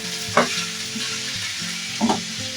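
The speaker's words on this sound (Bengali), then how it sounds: "মিডিয়াম ফ্লেম করে আবার কিন্তু মটনটাকে ভালো করে এবার কষিয়ে নিচ্ছি।" Mutton and onions sautéing over a medium flame, a steady frying sizzle broken by two sharp spatula scrapes as the meat is stirred, with no talk.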